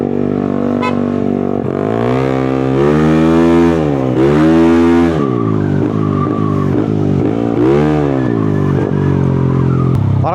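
A motorcycle engine fitted with a new muffler revs up and down in loud, close, sustained swells, its pitch rising and falling several times over about ten seconds with no talking.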